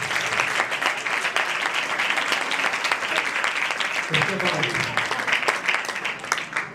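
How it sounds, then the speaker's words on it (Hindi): A live audience at a Christian worship-night community event breaks into sustained, loud applause, dense clapping that continues throughout, with a voice talking briefly over it. "आपकी भरपूर तालियां।"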